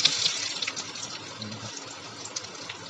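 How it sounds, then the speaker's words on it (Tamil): Onions and curry leaves fry in hot tempering oil for a Tamil-style cauliflower and pea curry, giving a steady, close, bright sizzling hiss with no talk. "இப்போ வெங்காயம் கருவேப்பிலை போட்டுக்கிறோம்."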